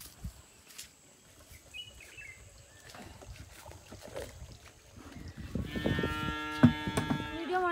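Quiet rustling and faint outdoor noise in a village cow shed give way to a loud, close cow moo, a long drawn-out low call lasting a couple of seconds.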